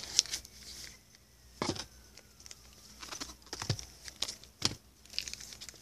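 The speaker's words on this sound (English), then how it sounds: "I'm going to take out the cardboard again" Cardboard is pulled out of a Pokémon XY Roaring Skies elite trainer box, making quiet, close tearing and crinkling noises in short bursts with brief scrapes between them, and no talking.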